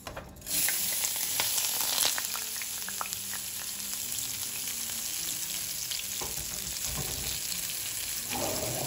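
Rice poured into hot oil in a pan on a medium-hot stove for Mexican red rice, a sudden close sizzle that settles into a steady crackling fry with light stirring scrapes, no voices.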